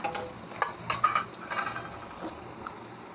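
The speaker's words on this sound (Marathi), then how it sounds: "कांदा आपला चांगला फ्राय करून घेऊया" Chopped onion with hot and mild chillies frying for pav bhaji, a close sizzle with a few stirring scrapes and light utensil clinks against the pan, with no voices.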